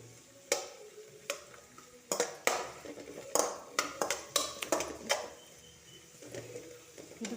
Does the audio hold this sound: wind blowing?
no